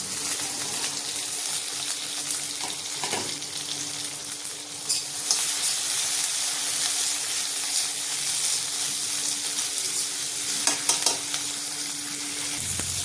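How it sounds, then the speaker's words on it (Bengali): Tomato, onion, ginger and green chili frying with spices in oil for rajma, a steady loud sizzle with stirring scrapes and a few utensil clinks, alone without talk. "টমেটো পেঁয়াজ আদা কাঁচা লঙ্কা সব ভেজে নেব"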